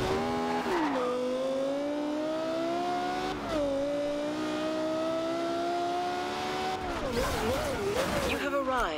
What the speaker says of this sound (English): Drifting off road